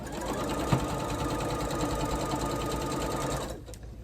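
Sewing machine stitching quilt blocks, a rapid steady mechanical chatter close by that runs continuously for several seconds before stopping abruptly near the end, with no talking.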